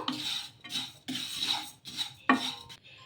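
Vermicelli being roasted in a pan, with a spoon scraping and stirring in repeated strokes, close and fairly quiet, with occasional metallic clinks against the pan and no talking.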